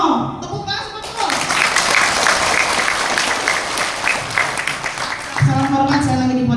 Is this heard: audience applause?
yes